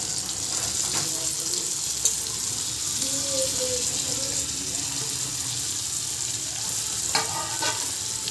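Tora shoots fry with chilli powder in a pan, a steady close sizzle and crackle running throughout, with faint stirring scrapes and no talking.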